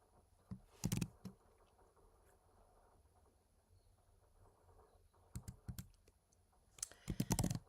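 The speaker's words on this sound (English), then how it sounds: "I'm just gonna type it. I learned better by typing." Bursts of computer keyboard typing in a quiet room, a quick cluster of clacking keystrokes near the start and two more flurries toward the end, with near-silence between and no talk.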